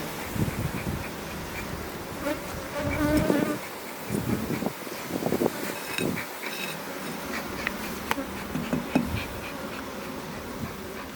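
Bees buzz around a complete beehive, a dense, close swarm drone that rises and falls continuously, with occasional soft handling sounds.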